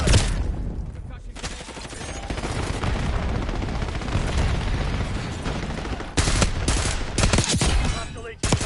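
Guns fire in a video game firefight, dense and loud, with rapid automatic bursts and booms running almost without a break, and a fresh volley near the end. A voice speaks underneath.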